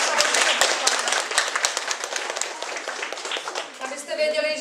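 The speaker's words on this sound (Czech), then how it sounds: "takže Peťovi zatleskáme na dálku a dáme si to." A library audience at a results announcement in Hodonín claps in dense, steady applause for several seconds, with a few louder individual claps standing out.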